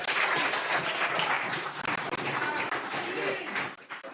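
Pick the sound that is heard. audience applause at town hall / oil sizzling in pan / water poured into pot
audience applause at town hall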